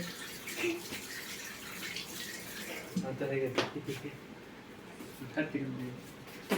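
Water running from a tap while a child's face is washed, a soft continuous splash with brief louder gushes, under a woman's close, lively talking.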